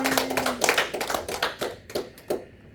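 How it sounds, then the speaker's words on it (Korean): A chapel congregation at a theological university claps in a short, scattered burst, fairly loud at first, then thinning into a few separate claps that fade out by the end, with no talking. "우리 하나님 앞에 영광의 박수 한번 돌려드립니다"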